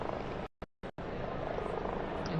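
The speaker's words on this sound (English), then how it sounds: "You can hear the helicopters. You can hear them in the square now." Helicopters thrum over a crowded square while a new pope is chosen, a steady low rotor drone blended with crowd noise, briefly cut out twice.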